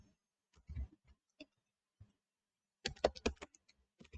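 Code typed on a computer keyboard: a few scattered key taps early on, then a brief quick burst of clicks, close and fairly quiet, with no talking.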